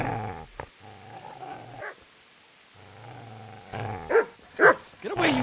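Dog growling low and then breaking into a few sharp, loud barks near the end, in the medieval video game Kingdom Come: Deliverance, close and with no talk over it.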